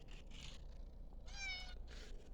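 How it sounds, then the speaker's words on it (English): Outdoors, a cat gives a couple of faint, short meows at a distance over steady low background noise. "Meow."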